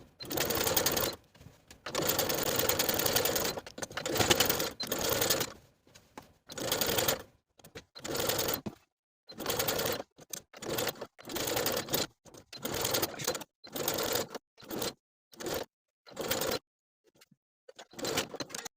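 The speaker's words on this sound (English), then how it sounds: "to understitch, you're going to be edge stitching close to that original stitching line" A sewing machine understitches close to the seam line along a dress lining, running in bursts: long stretches at first, then many short runs with brief pauses between them, fairly loud and alone.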